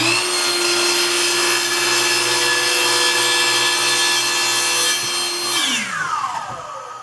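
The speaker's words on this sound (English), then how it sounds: "you can see I have my board on the miter saw, and when I cut it" Miter saw cutting a wooden board for a coat rack: a loud, steady high motor whine held for several seconds, then a falling pitch as the blade spins down, close and without speech.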